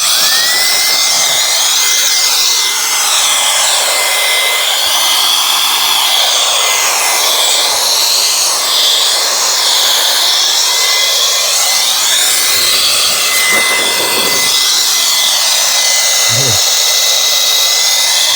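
A WOLFBOX Super Power MegaFlow100 air blower runs on high power with a loud, steady, broadband whoosh and a high whine that lasts the whole stretch, wavering slightly in tone as the airflow moves.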